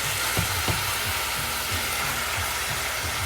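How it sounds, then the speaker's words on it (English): Garlic and bok choy stir-frying in a pan, giving a steady broad hiss of sizzling oil with a few soft knocks and scrapes from stirring, close up and with no talking. "mix up the garlic and the bok choy together"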